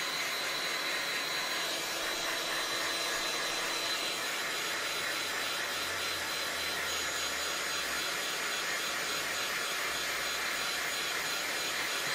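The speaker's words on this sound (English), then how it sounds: "Takes a few seconds for that heat gun to really start heating up" Electric heat gun warming up to melt layers of wax polish off leather monk strap shoes, a constant loud blowing hiss and fan whir close by with no speech.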